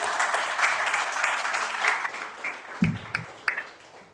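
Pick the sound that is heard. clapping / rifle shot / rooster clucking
clapping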